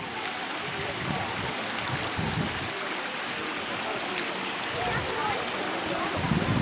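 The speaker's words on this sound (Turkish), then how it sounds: "Burada ama şırıl şırıl akıyor." Water runs and splashes over the travertine terraces at Pamukkale, spilling from the pools in a steady rushing babble with soft bursts, and people talk faintly in the background.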